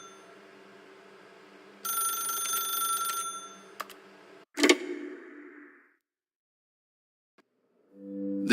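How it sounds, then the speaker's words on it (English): A telephone in the video game The Stanley Parable rings with a bright, steady electronic trill for a couple of seconds, followed by a sharp click and a fading tone, then quiet. "Now pick up the phone, said the bucket."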